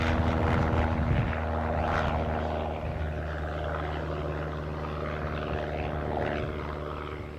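A small aircraft taxiing at Aberdeen airport gives off a steady, fairly loud propeller engine drone that holds constant throughout, with no voices.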